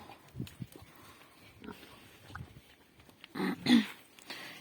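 Mangalica pigs grunt and snort in short bursts, a few soft and one louder pair near the end, with faint background noise.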